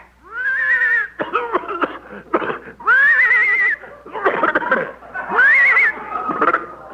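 A horse neighs as a radio comedy sound effect, giving three loud, shrill, quavering whinnies, each followed by snorting and sputtering, close up and alone with no talk.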